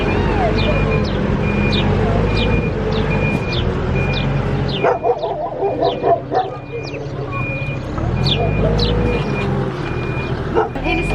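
Dogs bark repeatedly at an animal shelter for rescued and recovering dogs, the yaps near and layered over a steady low rumble and a repeating electronic beep, with voices talking throughout.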